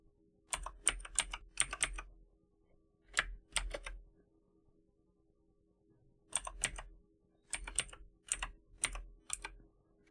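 Computer keyboard typing on a Windows PC: close, crisp bursts of rapid keystrokes separated by short pauses in an otherwise quiet room.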